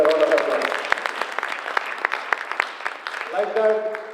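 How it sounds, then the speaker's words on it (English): Scattered clapping from an audience at an ATA conference committee kickoff, crisp individual claps spread unevenly, with a voice talking at the start and again near the end. "Let's give him a big round of applause."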